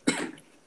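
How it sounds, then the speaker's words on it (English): A single short, harsh cough, close and fairly soft, fading quickly into quiet. "I hear coughing and hacking and dying."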